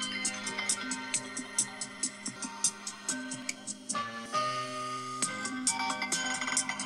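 A bright, melodic iOS 26 iPhone ringtone plays alone, with chiming notes in a repeating pattern that shifts to a new tune partway through.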